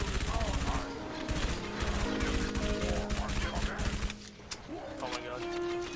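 Rapid bursts of loud gunfire from an inaccurate, low-recoil gun in Halo 3: ODST, with dense overlapping shots and faint game voices in the background.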